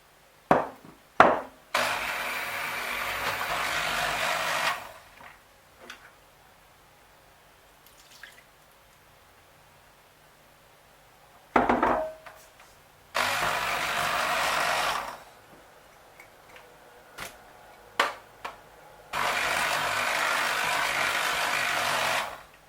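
An electric mixer beats orange cake batter on low speed in three separate bursts of steady whirring, each a few seconds long, with clinks and knocks against the bowl between them.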